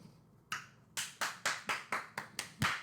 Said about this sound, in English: Claps for her.